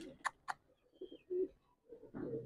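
A pigeon coos softly nearby in low, throaty bursts, preceded by a couple of sharp taps.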